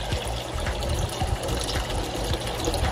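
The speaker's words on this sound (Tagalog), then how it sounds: "lalagyan na natin ng tubig tong tank natin para mag-start na tayo ng cycling." Water pours steadily into a new saltwater aquarium tank being filled to start cycling, a continuous splashing trickle throughout with no voices.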